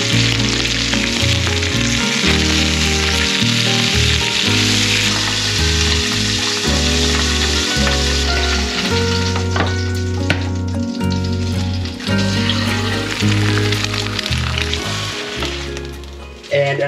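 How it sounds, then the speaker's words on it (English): A sausage steams and sizzles in a pan with a constant bright hiss, heard close under loud background music throughout. "to steam this sausage for a little bit"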